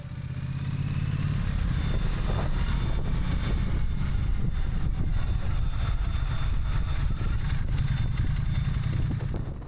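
A Triumph Bonneville motorcycle engine with a fault runs steadily nearby, a continuous low drone that hums along without pauses for the whole stretch.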